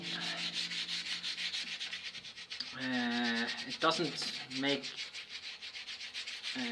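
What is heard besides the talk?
scrubbing with steel wool sponge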